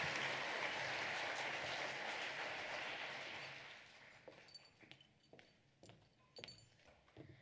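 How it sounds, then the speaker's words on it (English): A school audience applauds award-winning elementary students. The broad, loud clapping fills the first half, then fades into a few scattered, isolated claps. "Let's give these boys and girls a big round of applause."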